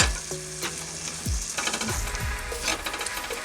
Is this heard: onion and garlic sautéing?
yes